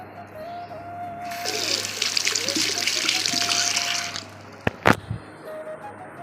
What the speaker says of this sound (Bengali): হাতটা ধুয়ে নিই আমি আবার